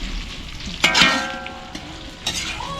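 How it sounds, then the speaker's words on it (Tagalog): Food sizzles in hot oil in a home kitchen, a steady frying crackle with a few stirring scrapes and clinks of a utensil against the pan, close by. "Prito lang."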